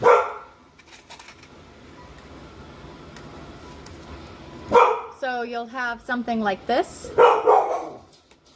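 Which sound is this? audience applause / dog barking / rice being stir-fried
dog barking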